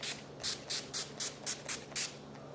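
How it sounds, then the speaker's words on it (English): NYX setting spray misted onto the face in eight quick, evenly spaced hisses, each a short airy burst, close and soft against a quiet room. "Do that every single time using my NYX spray."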